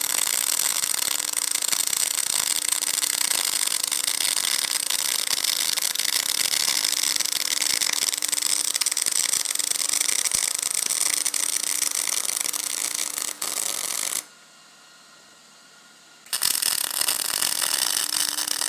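MIG welding with a Miller 211 running 035 wire and straight CO2 gas on AR500 steel, a steady loud crackling hiss that runs for about fourteen seconds, breaks off for two seconds, then starts again.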